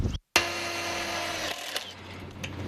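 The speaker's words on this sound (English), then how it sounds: "That's the sound of crews working at the Sullivan City Pool" A power tool whirs loudly after a brief cutout, then winds down, leaving a faint mechanical hum and a few scattered knocks as construction crews work at a city pool.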